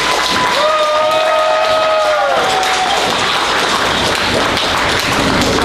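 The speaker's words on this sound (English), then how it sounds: "round of applause, please" A crowd applauds to honour young people at a Skwah youth celebration, a dense wash of clapping that carries on under a sustained tone, with no talk heard.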